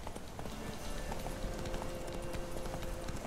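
Roach the horse gallops through The Witcher 3 Wild Hunt with a rapid, even clip-clop of hooves that holds steady and fairly quiet throughout.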